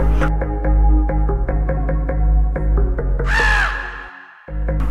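A crow caws repeatedly over a steady low musical backing, the harsh calls rising and falling before a brief drop to silence near the end.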